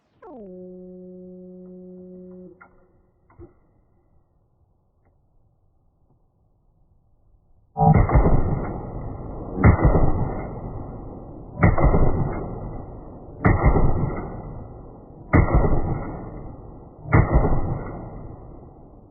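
An AK rifle fitted with a muzzle brake fires outdoors: an electronic shot-timer beep, a quiet pause, then six sharp, loud, booming shots in an even rhythm about two seconds apart, each leaving a short echoing tail.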